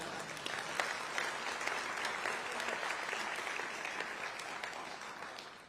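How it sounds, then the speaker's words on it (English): An audience at the Conservative Party Conference in Manchester claps in a dense, sustained round of applause that stays steady and fairly loud before easing slightly at the end. "You can applaud that if you want."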